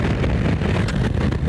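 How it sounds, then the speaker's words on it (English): Heavy wind buffeting a microphone while riding a superbike at a windy airfield track, a loud constant roaring rumble across the whole stretch with no voices. "It's really windy out here though"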